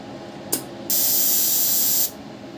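The high-frequency oscillator of a Tavr TIG 200 welder gives a brief snap, then a loud, steady hiss with crackle lasting just over a second before cutting off sharply, with no talking.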